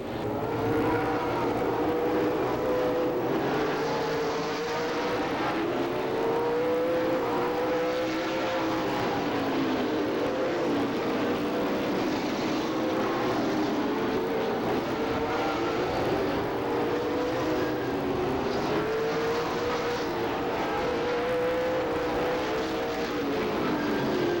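Race cars at Stockton 99 Speedway during a 100-lap Tri-Holiday Classic in 1997, a continuous loud engine roar with rising and falling pitch as cars sweep past, blended into a dense wall of sound.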